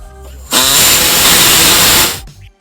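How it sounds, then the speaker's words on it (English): A pneumatic air saw cuts a small notch in the frame of a 2007 Chrysler Town and Country for a trailer hitch bolt, a loud steady buzzing whine lasting about a second and a half, starting and stopping abruptly. "We're going to go ahead and open it up a little bit by using our air saw right here, and it's just going to be a little tiny notch"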